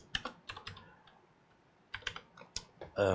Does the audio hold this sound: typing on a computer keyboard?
yes